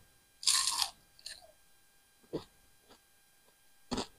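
Loud, crisp crunching bites at close range, a few separated crunches with quiet pauses between them, as someone chews crispy fried fish.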